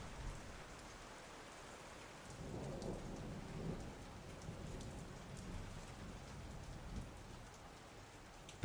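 Steady light rain falls throughout, a soft continuous patter of raindrops on a surface with a low rumbling undertone; no voices.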